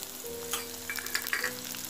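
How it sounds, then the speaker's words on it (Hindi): Onion is dropped into hot oil in a kitchen pan for a sev chutney, producing a soft, close, steady sizzle with faint crackles and stirring sounds and no talking. "तेल हमारा गरम हो चुका है, अब हम इसमें डालेंगे प्याज।"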